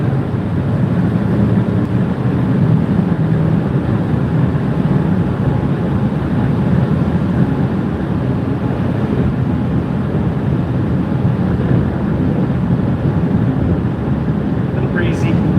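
Steady, loud wind buffeting across the open deck of the Norwegian Jewel cruise ship as it leaves Bermuda, a continuous broadband roar with no break.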